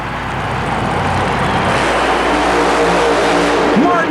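Nitrous-powered super modified mud racing car at Oklahoma City in 1991, its engine revving loud and close in a sustained roar that rises toward the end, with an announcer talking over it.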